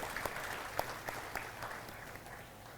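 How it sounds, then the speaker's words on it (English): Applause from an audience at UDAAN 2023 for a team, a steady dense patter of clapping at moderate level with a few sharper individual claps, no talking over it. "Let us once again give a huge round of applause to our Haridarshan team"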